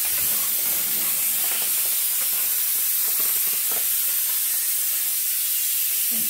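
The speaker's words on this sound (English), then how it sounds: "just steam clean it all" A steam cleaner hisses steadily at close range on bathroom fixtures such as faucets and showers, giving a loud, continuous broadband rush with slight fluctuations.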